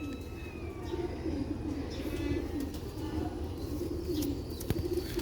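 Sialkoti black-faced Sheikhu pigeons coo in low, throaty, repeated phrases up close, with faint chirps and a little background noise around them.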